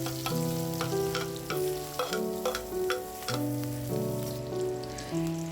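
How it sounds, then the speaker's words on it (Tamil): Sliced large onions sizzle in oil in a kadai, a steady crackling fry with scattered pops, heard under a prominent layer of tonal background music. "அதில் தேவையான அளவு எண்ணெய் ஊற்றிட்டு 2 பெரிய வெங்காயத்தை நீல வாக்கில் கட் பண்ணி சேர்த்துக்கிறேன்"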